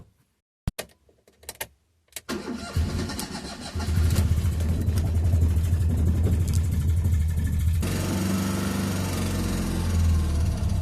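A Fiat Cinquecento 700 car engine is cranked with a few sharp clicks and bursts, then catches and runs with a steady, buzzing idle nearby that grows rougher and louder toward the end.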